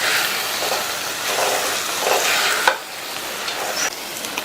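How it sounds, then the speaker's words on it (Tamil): Chana dal sizzles and crackles in masala in a hot pan on high flame with a continuous frying hiss, punctuated by scraping stirs against the metal. "இந்த கடலைப்பருப்பை ஹை ஃப்ளேம்லயே வச்சு ஒரு 2 நிமிஷத்துக்கு நல்லா இந்த மசாலாவில் வதக்கி விட்டுக்கணும்"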